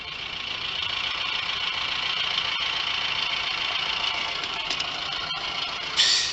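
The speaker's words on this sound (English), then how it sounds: "Nobody even idles in Jeeps anymore like this anymore, pal" A Jeep engine idles steadily at close range, a continuous even rumble with a rough hiss, holding the same level throughout with a brief brighter burst near the end.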